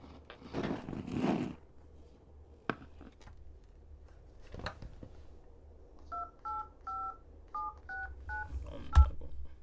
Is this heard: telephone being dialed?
yes